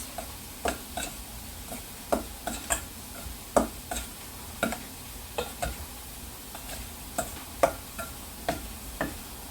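Duck stuffing with chicken hearts, meat and a tablespoon of cumin being mixed, with a steady run of soft, evenly spaced clicks and taps as a utensil works the mixture, no talking.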